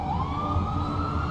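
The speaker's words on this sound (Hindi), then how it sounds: "Colon was rushed by ambulance to the hospital." An ambulance siren wails steadily and loudly, its tone rising slightly over a constant roar of traffic noise.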